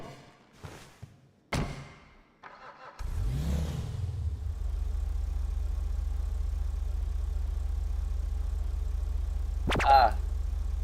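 A car engine idles steadily in the GTA V LSPDFR police game, a constant low drone lasting most of the clip after a few brief clunks and bumps at the start.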